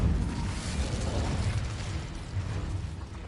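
An Incendio fire spell cast in Hogwarts Legacy, a steady, dense roar with crackling mechanical grit that holds at an even, fairly loud level throughout.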